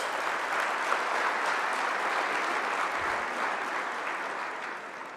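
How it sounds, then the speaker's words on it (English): Sustained applause from a large crowd at a men's indaba on a university campus, steady dense clapping that fills the whole stretch and fades slightly toward the end. "Applause."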